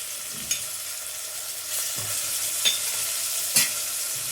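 Onion and green chili with ginger-garlic paste frying in a pan, a steady close sizzle broken by a few sharp spatula knocks and scrapes against the pan.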